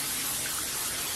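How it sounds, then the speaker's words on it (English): Cooking oil sprayed from a can onto a pan while preparing roasted fried green tomatoes, a steady close hiss lasting about a second with no talk. "Just give it a nice spray."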